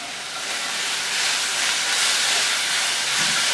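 Boiled thattaikai (cowpea/karamani pods) sizzling as they sauté in hot oil, a steady broad hiss holding evenly throughout with no talk.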